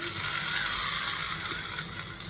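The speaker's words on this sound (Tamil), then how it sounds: "இந்த தாளிச்சதை சட்னியில் கொட்டிடலாம்." Hot coconut oil tempering with urad dal and curry leaves hits coconut chutney with a loud, steady hissing sizzle that carries on without a break, close up and with no talking.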